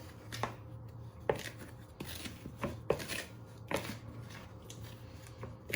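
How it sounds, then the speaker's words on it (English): Chocolate chip muffin batter being stirred in a bowl, the spoon working round from the sides and bottom with soft repeated scrapes and taps, close and quiet against a low background hum. "you want to give this a little bit of a stir all the way round from the sides and also off the bottom into the middle"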